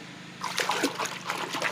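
Soapy water and clothes are shaken in a container to work up foam, giving a burst of splashing, sloshing liquid sounds that starts after a short quiet moment and continues in uneven surges.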